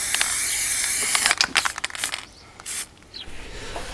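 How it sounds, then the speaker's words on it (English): Aerosol spray paint hisses from a can for stencil art in several short bursts with gaps between, the sprays fairly close and loud, with no voices. "But I now like to use spray."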